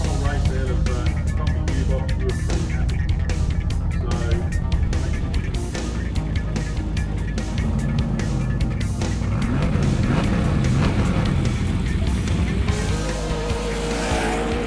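Off-road racing vehicles roar through the prologue of an enduro round on dry rocky terrain, engines loud and sustained throughout with tire skids, alongside faint crowd or commentary voices.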